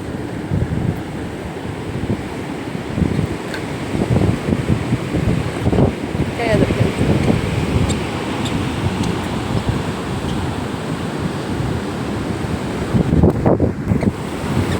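Surf pounds the shore at Addaripeta beach near moored boats, a loud, continuous rushing roar heavily mixed with wind noise on the microphone, swelling and easing in waves.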